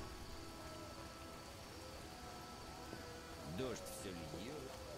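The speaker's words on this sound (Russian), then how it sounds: "Дождь все льет." Steady rain falling in The Witcher video game, a soft continuous hiss of drops under low ambience, with a brief voice-like sound near the end.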